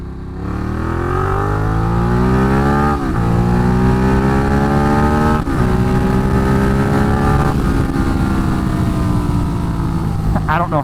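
A Ducati Diavel motorcycle accelerating hard from second gear, a loud, close engine roar climbing steadily in pitch with brief dips at each upshift, dominating throughout over wind rush.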